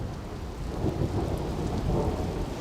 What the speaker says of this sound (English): It's thundering quite a bit.